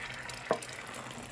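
Frozen trinity vegetables fry in plain vegetable oil for shrimp creole, with a steady close sizzle broken by two short stirring knocks of the spoon in the pan.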